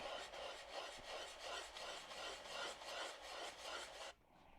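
Steady back-and-forth sanding strokes rasp across a model airplane wing, a rhythmic scratchy rubbing about twice per second, close and loud, stopping abruptly near the end.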